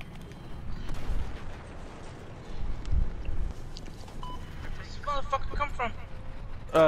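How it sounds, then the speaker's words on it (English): Heavy gunfire and booming blasts in a Battlefield 4 milsim match, dense and rumbling with loud low impacts around the middle, while voices talk over the action near the end. "I shot the pilot"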